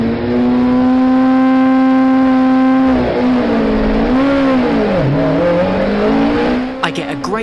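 A race car roars off the grid at Brands Hatch, its engine at a steady high-pitched drone before rising and falling through gear changes as it launches, loud and close from the cockpit, ending in some sharp mechanical noise.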